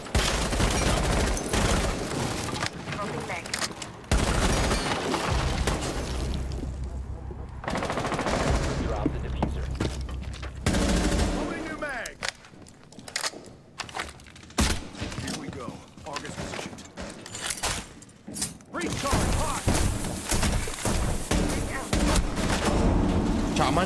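Gunfire in Rainbow Six Siege, loud rapid automatic bursts and single shots crackling close up amid clanks and mechanical noises, with intermittent quieter gaps and a player talking over the action.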